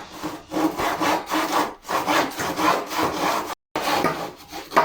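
A hand saw cuts through reclaimed wooden planks for building a compost bin, close and loud, with rhythmic back-and-forth rasping strokes and a brief pause midway.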